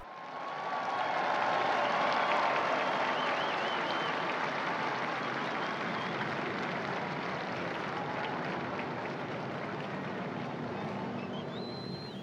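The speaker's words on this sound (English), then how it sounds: "We join the crowds as they applaud and welcome the Holy Father." Large crowd applauding and cheering in St. Peter's Square at the Vatican as Pope Francis appears for the Angelus, a dense, sustained roar of clapping that stays loud throughout with faint whistles above.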